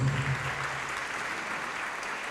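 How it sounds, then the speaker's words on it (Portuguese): A church congregation applauds during a worship service, producing a continuous, moderately quiet patter of many hands clapping with a faint low tone at the start. "vamos aplaudir mais ao nome de Jesus"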